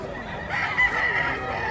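A rooster crows once, close and clear, amid the bustle of a chicken market in Batangas.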